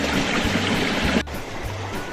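Water rushes steadily through a Goldbitz Elvo 4 sluice during gold panning, washing sieved gold-bearing material in a continuous loud wash, briefly dipping midway, with no talking.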